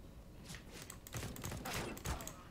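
Counter-Strike: Global Offensive gunfire comes as a few quiet, clustered shots and brief automatic bursts, fairly faint and somewhat distant against low in-game background noise.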